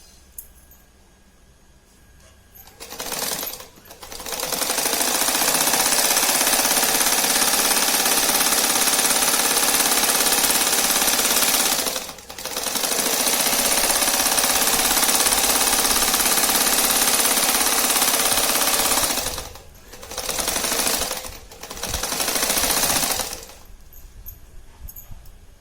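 A sewing machine stitches fabric for a zipperless twin pouch in long, loud runs of steady mechanical whirring, broken by short pauses and ending with a few brief bursts, with no talking.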